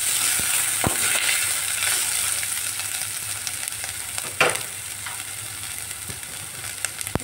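Cumin seeds and chopped ginger sizzle in hot oil in a pan, a steady bright crackle with occasional sharp clicks and a louder scrape of stirring midway.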